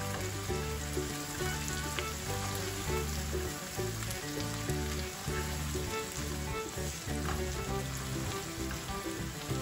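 Pepper paste and tomato paste sizzle in hot fat in a pan, a steady, dense crackle and fizz lasting about ten seconds with faint stirring scrapes and no voices.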